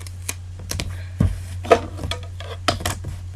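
Duct tape being cut for a homemade wallet, a scattering of close, sharp snips and crinkly taps in an irregular rhythm over a low steady hum.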